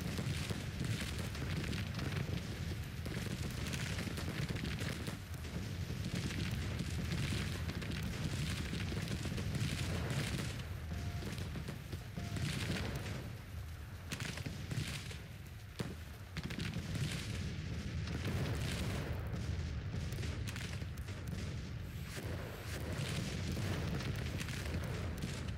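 Cannon bombardment in the Civil War strategy game Grand Tactician: The Civil War forms a continuous low rumble of distant booms, dense and unbroken with only brief dips, and no voices over it.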